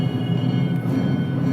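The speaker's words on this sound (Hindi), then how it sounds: "ये घंटी की आवाज़ आपको सुनाई दे रही है। जहाँ पे हम रहते हैं बगल में ही काली मंदिर है" A temple bell rings at a nearby Kali temple, heard as a sustained, slightly distant metallic ringing tone over a steady low hum, with no speech.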